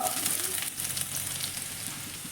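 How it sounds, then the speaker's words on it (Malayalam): Chopped ginger sautéing in hot oil in a pan for chilli chicken, a steady close sizzle and crackle with faint stirring throughout. "ഒരു ടേബിൾ സ്പൂൺ ഇഞ്ചി ചോപ്പ് ചെയ്തത് അതൊന്ന് പെട്ടെന്ന് വഴറ്റിയെടുക്കുക"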